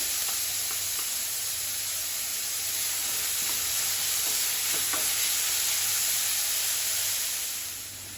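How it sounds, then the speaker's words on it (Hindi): One large chopped onion sautés in a pan for a dhaba-style sev tamatar curry, with a steady close hiss and sizzle and faint scraping stirs throughout. The sizzle fades slightly at the end. "प्याज को हमने यहाँ पर ब्राउन नहीं करना है, हल्का सा पिंक होने तक, ट्रांसपेरेंट होने तक इसे हमने भूनना है"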